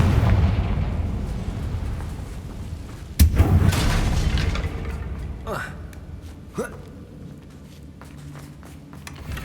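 Confringo fire spell cast in the Hogwarts Legacy video game at a damaged bridge, a sharp explosive burst with a booming blast and crackling debris, followed by smaller pops, over a steady ambient rumble and faint voices.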